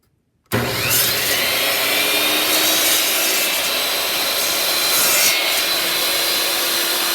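A table saw or miter saw bites into a cedar board for a small spiral Christmas tree, starting abruptly after a brief silence and then holding a loud, steady, rasping whine close by.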